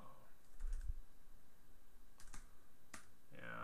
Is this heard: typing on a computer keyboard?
yes